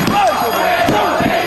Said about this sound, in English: You can hear the chants from the FWA fans.